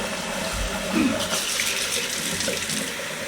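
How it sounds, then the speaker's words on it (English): Hot water runs from a tap down a muzzleloader barrel to break down black powder deposits. It makes a close, steady, continuous rushing flow with no talking. "just start running hot water down that thing."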